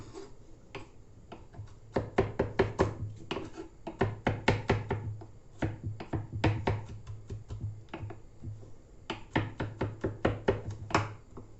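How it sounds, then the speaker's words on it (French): A knife chops crushed garlic cloves into small pieces on a board: rapid, close, crisp taps in bursts with short pauses between them, and no talking. "Et on va les couper en petits morceaux"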